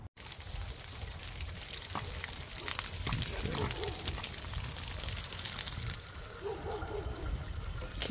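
Water gushes and pours through the plumbing of an RV during maintenance, a continuous rushing flow that stays loud throughout, with faint talk in the background.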